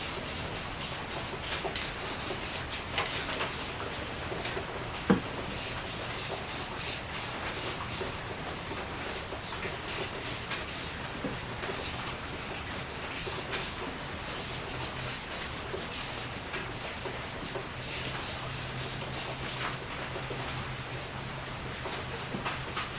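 Primer is sprayed onto the metal housing of a gravity feed unit in a long run of hissing bursts, steady and close, pausing briefly between passes with no talking.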